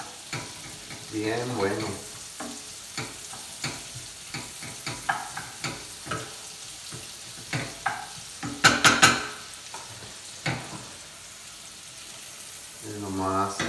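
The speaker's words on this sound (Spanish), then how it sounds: "Guisan el ajo y la cebolla primero, antes de echar los camarones" Garlic and onion fry in a pan for a shrimp dish, with a spatula scraping and stirring in repeated strokes and a low sizzle underneath, while a person speaks intermittently nearby.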